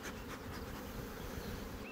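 Honeybees hum around an open hive, a dense, steady, low buzz of many insects close at hand that continues evenly throughout without pause.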